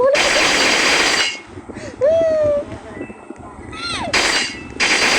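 Gunfire in a shooting video game: loud, dense bursts fill the opening second and return near the end, with quieter game effects and tonal beeps between them and voices talking over parts of it.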